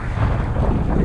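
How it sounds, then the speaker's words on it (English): Steady wind buffets a kayak on open water, a loud rumbling gust pressing on the microphone with no pauses and no voices. "that wind."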